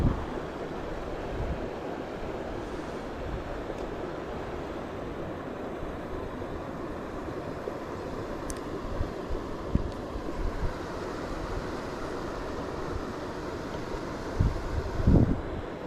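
Steady wind rushes across open ground at a private dam on a cool day of about 45 degrees, a constant broadband roar buffeting the microphone with a few low gusts near the end and no talk.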